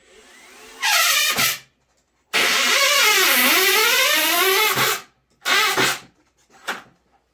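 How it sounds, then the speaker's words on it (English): A power drill whirs in several bursts, one long sustained run between shorter ones, its pitch rising and falling as it drives a screw into a homemade snake cage, close by. "So I'll put the screw in right quick."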